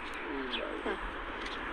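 Soft cooing of pigeons, low and rounded, heard under a murmuring voice with steady background noise, as the birds wait to be fed.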